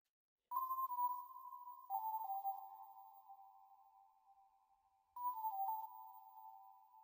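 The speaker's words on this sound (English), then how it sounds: "It sounds like an organ, but a very, very reverbed organ." A clean, organ-like synth lead with heavy reverb, made with stock FL Studio plugins for roots reggae, plays a few sustained notes with a soft, ringing tail, drifting down in pitch before a second phrase enters.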